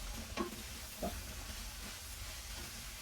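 Turmeric is stirred into bitter gourd in a pan, a faint steady sizzle with two soft scraping strokes of the spoon early on, quiet and without speech.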